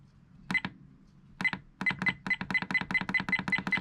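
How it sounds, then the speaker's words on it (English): Quiet, clipped electronic beeps, a few scattered ones followed by a quick run of rapid, evenly paced bleeps like button presses. "I don't like that beep."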